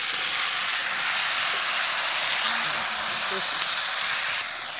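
Fried fish is dropped into a spiced curry base already cooking in a pan over a homemade clay stove, giving a steady loud hiss and sizzle with faint clatter near the end.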